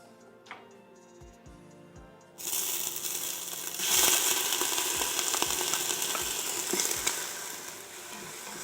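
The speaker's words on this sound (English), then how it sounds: "You can hear the sizzle, meaning that my pressure cooker is hot enough to fry" Onions fry in hot oil inside an Ecoa electric pressure cooker, starting as a low bubbling before a sudden loud sizzle bursts in and holds steady with crackles and occasional stirring scrapes.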